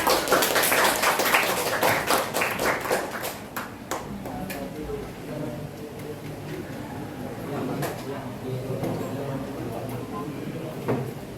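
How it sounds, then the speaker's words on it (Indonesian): A small group of students claps in a junior high school classroom after a role-play, loud and uneven at first, then the clapping thins out as voices and room noise take over. "Oke, tepuk tangan buat yang udah bermain."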